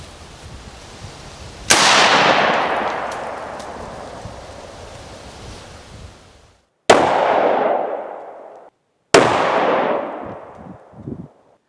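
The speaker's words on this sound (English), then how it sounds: "so let's try the AK." An AK rifle fires 5.45x39 rounds at targets outdoors. Three loud, sharp shots come several seconds apart, and each one is followed by a long, rolling echo that fades away.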